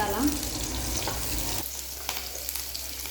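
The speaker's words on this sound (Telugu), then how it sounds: "దాని తర్వాత కొంచెం కరింపాకు వేసుకోవాలి. ఇది బాగా వేగాల." Onions, green chillies and curry leaves hit hot oil for leftover-idli upma, giving a loud crackling sizzle with stirring that settles into a softer, steady fry with occasional pops.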